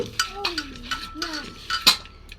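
A utensil stirs chopped tomatoes with turmeric and salt in a cooking pan, giving a series of light metallic clinks and scrapes in an uneven rhythm. A faint voice hums underneath.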